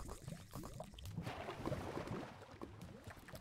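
Faint flowing and splashing water in Minecraft, a soft continuous wash with small bubbling and trickling detail, heard alone at low level.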